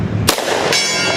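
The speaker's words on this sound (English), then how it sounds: "Try the gong." A shot from a Thompson M1A1 short-barreled rifle hitting a steel gong: a sharp, loud report, then a bright metallic clang with a ringing tail that holds to the end, with no talking.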